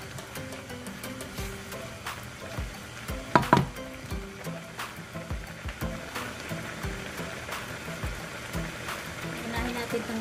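Water comes to a boil in a pot for pancit bihon and canton noodles, a bubbling, sizzling churn with scattered pops, heard under a person talking.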